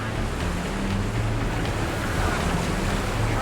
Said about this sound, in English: The river's high, and the rapids are now treacherous.